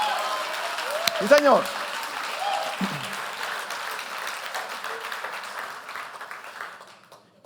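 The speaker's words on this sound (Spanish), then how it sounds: "denle un aplauso bien fuerte a Él" A church congregation applauding together, a broad wash of clapping that swells early and then fades away, while a voice speaks over it near the start.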